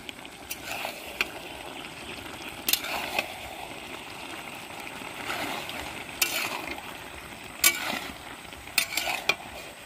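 Fried lentil dumplings (bori) stirred in a frying pan, with soft scraping and clinks of a spoon against the pan recurring every second or two over a faint steady sizzle, close and fairly quiet.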